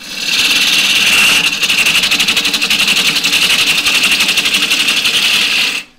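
A wood lathe cuts an eggcup, the tool not riding on its bevel and leaving a rough surface. It gives a loud, steady, rapidly pulsing scraping whir that runs unbroken for several seconds and then stops abruptly.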